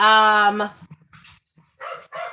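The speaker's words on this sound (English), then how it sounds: "my husband just had to bring in the dogs, which means that they gonna act like crazy hooligans" Dogs brought indoors bark and yip in short excited bursts, close by, after a loud sustained tonal cry at the start, with quiet gaps between the barks.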